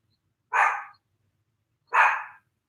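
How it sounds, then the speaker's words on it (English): A dog gives two sharp, loud barks about a second and a half apart, each standing alone against near silence. "I'm pretty sure she's barking at my husband."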